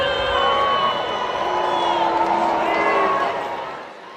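Graduation crowd at a commencement where Jerry Seinfeld is the speaker, loud sustained crowd noise with shouts and whoops rising and falling, a dense mass of voices that thins slightly toward the end.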